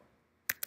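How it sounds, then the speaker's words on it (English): Two quick, sharp key taps on a computer keyboard, close and crisp, after a short stretch of near-silence with faint background noise. "Have to type it in again."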